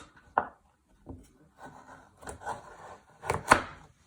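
A knife chops through a carrot on a board in a few separate, irregular strokes, close by, with soft rubbing between cuts.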